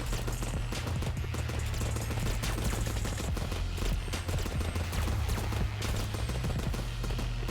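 Rapid bullet fire in the video game Starward Rogue, a dense continuous stream of sharp shots over a deep, steady low rumble.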